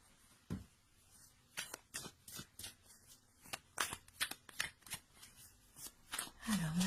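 A deck of oracle cards is shuffled by hand in a quick run of soft, papery riffles and flicks, close and fairly quiet, with a voice briefly audible at the end.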